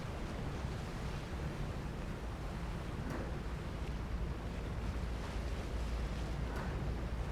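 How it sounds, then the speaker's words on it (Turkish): In the PUBG video game a fast boat cuts across the water with a steady, dense rush of engine drone, spray and wind noise that holds constant throughout and has no voices. "Teknemiz gidiyor."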